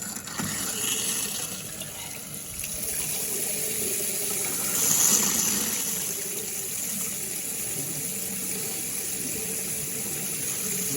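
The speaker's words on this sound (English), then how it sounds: "We're definitely getting water in there." Hot water runs through RV plumbing lines with a steady hiss and gush of flowing liquid, heard up close, rising briefly in strength midway before settling back to an even rush.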